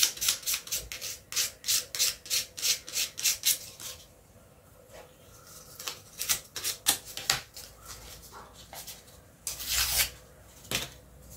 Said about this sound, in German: jetzt noch die Kanten ein bisschen begradigen. Oder anschleifen, besser gesagt.